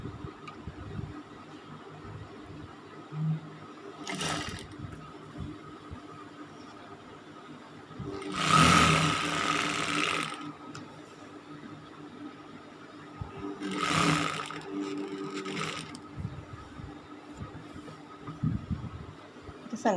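A sewing machine stitches a jilbaab sleeve in three short whirring bursts separated by quiet pauses, the longest run in the middle and the others brief.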